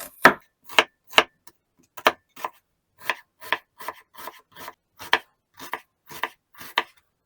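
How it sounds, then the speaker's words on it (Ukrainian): A knife finely chops onion for a chebureki filling, giving about fourteen crisp, close chopping knocks at an uneven rhythm with short pauses between them, alone without talk. "Спочатку поріжу цибулю, її можна, звичайно, пропустити через м'ясорубку, я міленько поріжу."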